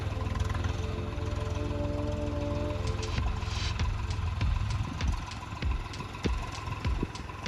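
A tractor engine running at a low steady rumble, with a tonal drone and intermittent knocks and clatters, fairly close and fairly loud throughout, with no talk.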